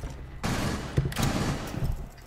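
Rapid gunfire from the video game Rainbow Six Siege crackles in a burst of several close shots, loud and dense.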